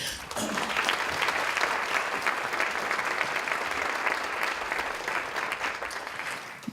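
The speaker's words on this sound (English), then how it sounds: "give another warm applause and appreciation for Dr. Lee" Warm audience applause at a liberal arts conference session, a sustained broad wash of many hands clapping evenly from start to finish before tapering slightly at the close.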